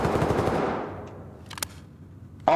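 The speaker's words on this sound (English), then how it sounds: "Look, my gun full auto too." A short, dense burst of full-auto gunfire in the Ready or Not video game rattles loudly and fades, followed by a few faint shots and a sharp noise at the end.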